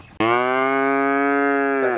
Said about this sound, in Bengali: চারটা লটে তিন নম্বর যে গরুটি নিয়ে আসছেন এটা একটা হলিস্টান ফিজান জাতের বাচ্চা